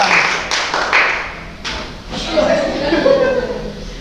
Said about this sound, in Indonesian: tepuk tangan untuk Ivan